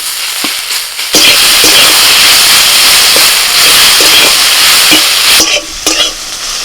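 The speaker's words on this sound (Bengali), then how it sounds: "কুদরিটা একটু ভাজা ভাজা হয়ে এলে এবার এর মধ্যে আমি দিয়ে দিচ্ছি কিছু পেঁয়াজ কুচি" Ivy gourd (kundru) fries in a pan as chopped onion goes in, bringing a sudden loud burst of sizzling that settles into a steady hiss with occasional stirring scrapes and clicks, close up and without speech.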